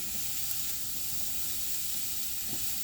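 Sausage browning in a pan for seafood gumbo gives off a soft, even hiss of fat frying close by, with a couple of faint knocks and no voices.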